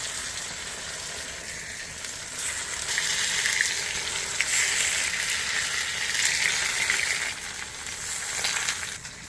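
Wild leaves fry in hot oil in a pan on a village clay stove, producing a steady, fairly quiet sizzle and crackle that swells slightly midway, with no talking.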